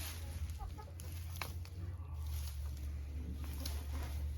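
Chickens cluck softly and intermittently against a low, steady hum of background noise.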